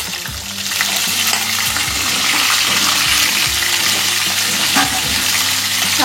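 Potato and moringa drumstick pieces drop into hot oil with fried tempering spices, setting off a loud, steady sizzle with stirring scrapes that continues without pause and without any talk.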